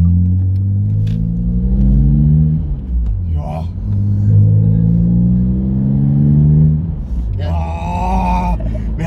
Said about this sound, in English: Naturally aspirated, bruh. You can't beat this engine.